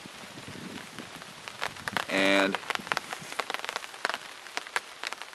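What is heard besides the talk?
rain falling on a Kelty Salida 2 tent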